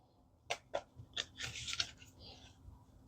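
Tarot-style Dream Oracle cards, oversized, being shuffled by hand in a quiet room, giving a few soft rustling bursts and riffling flutters with no talking.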